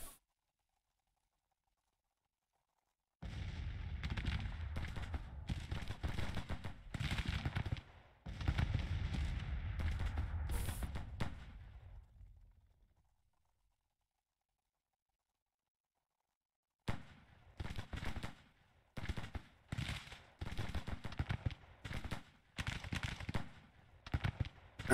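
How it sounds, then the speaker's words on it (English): Cannon batteries firing in the Civil War strategy game Grand Tactician, a dense run of booming reports for several seconds, then a quiet gap, then renewed irregular bursts of shots, loud and alone with no voices. "All right, our guns are firing now."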